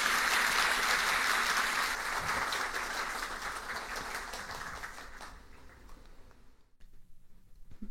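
Audience applause welcomes Adassa Romilus Guerrier at a formal French-language ceremony, starting as loud sustained clapping that slowly thins and fades toward the end, with no talk over it.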